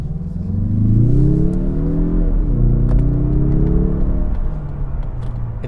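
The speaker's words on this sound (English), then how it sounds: "Okay, acceleration, sport mode." A 2021 Mazda 3 Sport GT Turbo accelerating hard in sport mode, heard as a loud, close engine drone that climbs in pitch, dips briefly at a gear change and then rises again.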